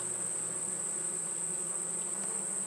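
Dense, continuous buzzing of many honeybees in a hive, steady and close, with a constant high whine over a low hum.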